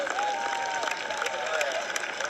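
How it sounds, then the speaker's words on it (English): Audience applause and some cheering for the North Mesquite soccer team at a school district hall of honor ceremony, a steady, moderately distant ovation lasting the whole moment with faint voices mixed in. "Let's give a round of applause for the North Mesquite soccer team"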